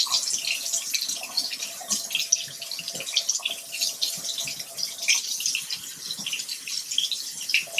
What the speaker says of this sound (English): So we're gonna water it just a little bit.